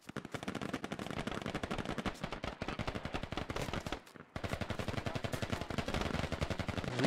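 Sustained heavy machine-gun fire in the tactical shooter Squad, rapid regular bursts of shots with one brief pause midway, then continuing hard to the end.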